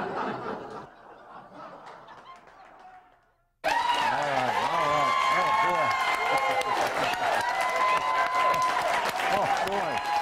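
After a quiet, fading opening and a sudden cut, a studio audience at a comedy cooking show erupts in loud clapping mixed with laughter and chuckles. The sustained noise continues over a talking voice.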